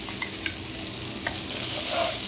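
Malvani-style surmai (kingfish) slices fry in a hot pan, giving a steady, close, continuous sizzle and crackle with occasional sharper pops throughout.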